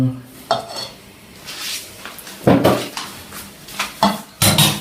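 A spoon scrapes and clatters against a bowl as almond filling for a galette des rois is stirred, making loud, irregular knocks and scrapes that repeat through the clip, with no speech.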